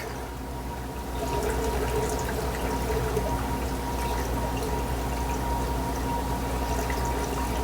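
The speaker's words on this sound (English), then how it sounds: "So we're gonna drain the water out." Water pours steadily while a shrimp tank is drained, a continuous close splashing gush that begins softly and swells after about a second, then holds at an even level.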